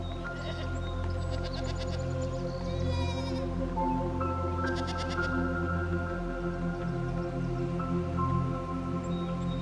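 Mountain goat kids bleating in the Canadian Rocky Mountains, several high wavering calls scattered over a steady low droning background, moderately near.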